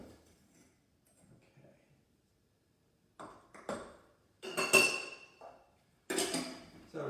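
A spoon clinks and scrapes against a bowl while mixing sugar and other ingredients for homemade pumpkin bread. After a quiet start, there are intermittent bursts of clattering, ringing strikes, close and fairly sharp.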